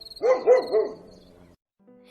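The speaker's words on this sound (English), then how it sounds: "Suddenly a ferocious bark tore the stillness of the night." A dog barks ferociously at night, three loud, close, rhythmic barks followed by a fading tail and brief quiet, with no talk.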